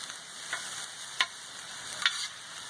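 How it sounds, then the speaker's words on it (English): Food frying in a pan gives a soft, even sizzle, broken by a few brief scraping clicks from stirring, close but fairly quiet. "Stir that up some so it's not burning."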